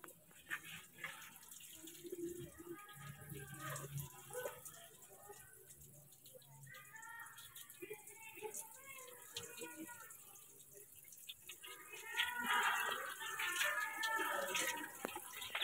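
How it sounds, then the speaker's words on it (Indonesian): Water splashes and pours over a body on a washing table in repeated dousings from side to side, a moderate running wash with a low hum beneath and a louder gush near the end. "Siram sebelah kanan dan kiri mayat masing-masing sebanyak 3 kali."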